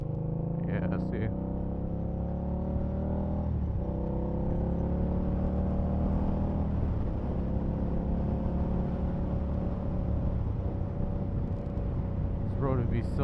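A 2017 Victory Octane motorcycle cruising along a twisty road, its steady engine drone holding close and continuous with shifting revs and wind rush, while a rider talks over it.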